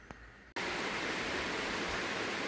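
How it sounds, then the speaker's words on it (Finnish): Steady, dense rain hiss on the roof of a car painting booth, starting abruptly after a quiet moment and continuing evenly and loudly with no talk. "Ja taas mun maalauskammiossa sataa vettä."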